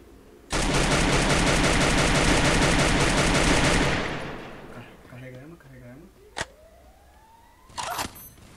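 Sustained burst of automatic gunfire in the video game Free Fire, loud and rapid for about three seconds, then fading into quieter game effects with a couple of short later shots.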